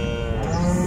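A cow at the Palo Gordo livestock market in Tulancingo, Hidalgo gives one loud, low sustained moo close by, filling the whole moment without talk.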